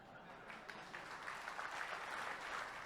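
Applause from an audience at a mushaira during a Republic Day poetry gathering, a steady sustained patter of many hands clapping, heard at moderate distance without voices.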